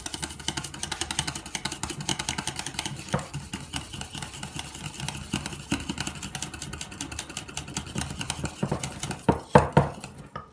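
Knafeh filling ingredients being stirred together in a bowl, with a steady run of clinking and scraping from a utensil against the dish, fairly close and continuous, growing a little sharper near the end.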